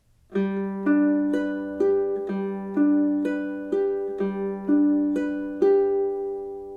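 A ukulele is fingerpicked at a fast tempo in a quick, steady repeating pattern, each plucked note ringing clearly with an even, bouncy rhythm, played alone without talking.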